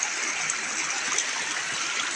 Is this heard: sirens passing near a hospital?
no